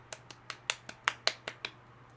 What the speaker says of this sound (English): so golf clap.